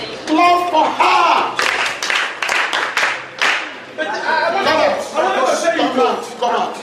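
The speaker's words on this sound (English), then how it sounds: "Class, clap for her." A class of children claps together in a short burst, mixed with excited kids' voices talking and laughing over the clapping.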